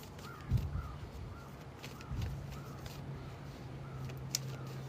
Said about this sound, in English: Crows are just so loud today.